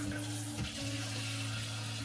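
Water runs steadily from a tap into a pan covering beetroots, a quiet continuous splashing hiss with a low hum underneath.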